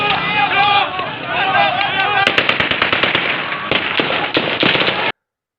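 Rapid gunshots are fired into the air during a clash between two groups in a street in Allahabad, a sharp crackling volley of many cracks in quick succession, loud and close, over crowd noise and voices.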